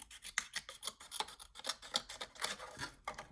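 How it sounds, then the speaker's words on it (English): Scissors trim paper for a Christmas picture-window accordion mini album, snipping in a quick, uneven series of close, crisp cuts with soft rubbing of paper between them. "I'm going to literally just cut that off"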